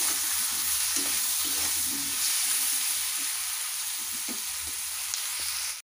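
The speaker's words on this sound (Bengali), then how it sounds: "আমি সবজিগুলোকে একটু হাই আঁচে ভেজে নিচ্ছি, যাতে খেতে টেস্ট লাগে।" Pumpkin stalks and greens with turmeric, salt and ground spices fry in a pan over high heat, a loud, steady close sizzle with occasional soft stirring scrapes and no talking.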